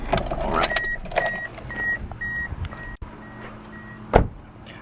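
A 2003 Toyota Corolla LE is shut off with the key, bringing a jangle of keys, a repeating electronic chime, a brief click as the engine stops, then a louder knock near the end.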